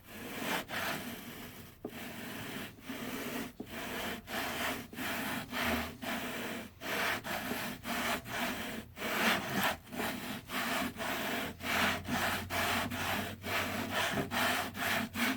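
Steady back-and-forth rubbing of a lapping bar inside scope rings on a firearm, a regular rhythmic scraping with roughly one stroke per half-second, close and continuous throughout.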